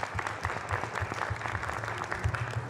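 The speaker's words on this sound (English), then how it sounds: "Let's give Irving and the principals a big round of applause" A room full of people applauds Irving and the school principals at a Mayor's Night Out gathering in Hammond. The clapping is steady and moderately quiet, carried on a dense patter with soft low thumps throughout.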